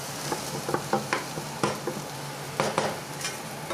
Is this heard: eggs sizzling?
yes